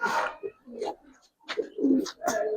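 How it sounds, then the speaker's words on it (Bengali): A Giribaz pigeon of the army line coos close by in a few soft, throaty bursts with short pauses between, with no talking. "সেকেন্ড পেয়ার জিরাওয়ালা আর্মি লাইনের একটা কবুতর"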